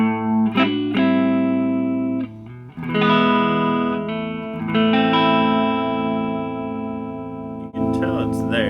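Electric guitar chords played through a Gibson Scout GA-17RVT amp with its reverb switched on, several strummed chords ringing out in sequence with a faint tail, and a voice speaking briefly between them.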